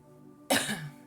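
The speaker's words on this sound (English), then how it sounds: "I'm just coughing and hitting my thing" A single sharp, close cough that bursts out suddenly after a quiet moment and trails off into a rough, throaty rasp.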